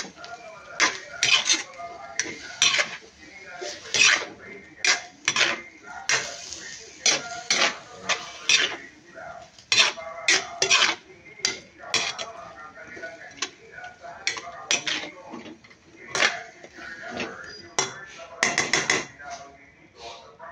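Beef cubes with pepper and salt being stirred in a pot, a busy run of sharp metallic clinks and scrapes from a spoon against the pot, close and irregular throughout.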